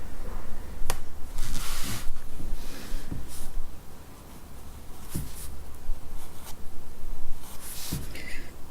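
Pencil or pen scratching across paper while sketching a stag at sunset, a run of close, steady strokes with brief pauses and a few sharp taps, alone with no talk.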